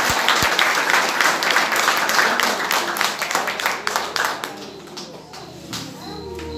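A church congregation applauds during a service, loud dense clapping that gradually thins and fades, giving way to quieter room sound with a voice toward the end.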